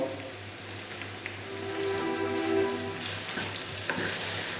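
Onions frying in a pan for Nepalese dal bhat, a soft steady sizzle and crackle with faint popping, quiet and close, with no one speaking.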